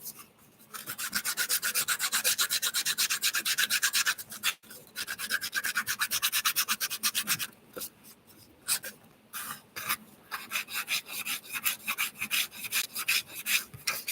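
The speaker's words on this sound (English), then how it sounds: "when I sand it down with a nail file, it's a lot smoother" A nail file rasps against the rough edge of thick cardstock in quick, steady back-and-forth strokes, close and fairly loud, pausing briefly twice before the rubbing resumes in shorter bursts.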